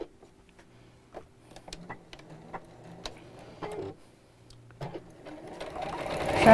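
Sewing machine stitching a gift bag, with short bursts of rapid needle clatter separated by pauses and light handling noises, then a louder, denser run of stitching building at the end.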